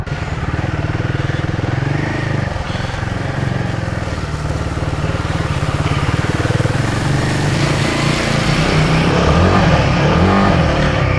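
A Royal Enfield Himalayan 450 on stock tyres revs hard through shady muddy patches, its engine a loud, rough continuous drone that rises as the throttle opens, with tyre and mud noise and no talking.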